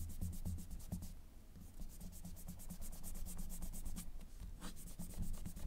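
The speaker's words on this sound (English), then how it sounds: "And then we'll go ahead and erase." An eraser rubs back and forth across a drawing on paper in quick, steady scrubbing strokes, close up and fairly quiet, with no voices.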